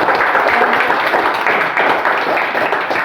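Classroom applause from students at the end of a lesson, dense steady hand clapping filling the whole stretch at close range, with a faint voice in the background.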